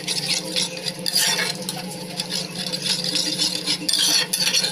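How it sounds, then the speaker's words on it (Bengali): Yogurt is stirred into spice masala in a pan, making a continuous close wet scraping and rhythmic clinking of a spoon against metal, uneven in loudness with no speech. "দইটা দিয়ে এবার নাড়াচাড়া করো মশলা দিয়ে।"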